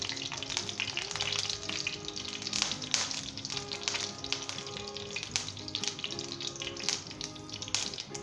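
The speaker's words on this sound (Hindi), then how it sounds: "इलायची तोड़ के हमने इसके अंदर डालनी है, कड़कड़ानी है।" Green cardamom pods crackling and sizzling in hot vegetable ghee in a frying pan, a steady low frying hiss broken by small pops and stirring sounds.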